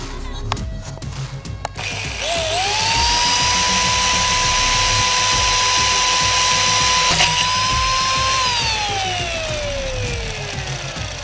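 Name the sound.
running chainsaw struck by a machete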